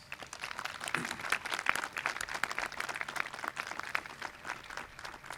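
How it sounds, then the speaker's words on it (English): Dense, steady applause from an audience at a college honors convocation, many hands clapping continuously at moderate volume and fairly near, with no talk over it. "Let's please give them a round of applause"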